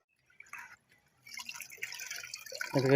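Water dripping and splashing while vegetables such as radish and greens are washed: a few sparse drips at first, then a denser run of trickling and splashing that grows louder near the end.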